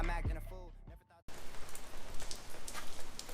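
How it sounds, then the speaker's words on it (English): Rain patters steadily on a surface after a brief burst of rap music cuts off, a close, uneven hiss with scattered drops. "I'm sure you can hear the rain"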